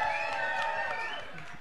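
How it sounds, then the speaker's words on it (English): Cheering and clapping crowd at a RuPaul's Drag Race All Stars 7 viewing party at Roscoe's, a steady loud wash of audience noise with shouts throughout. "So give yourselves a round of applause."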